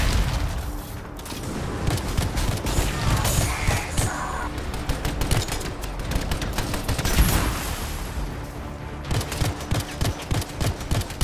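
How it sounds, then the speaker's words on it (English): Dense machine gun fire in the video game Anthem, a continuous clattering barrage mixed with booms and mechanical noises, loud and busy throughout with brief lulls and no speech over it. "Take this machine gun, it's so annoying."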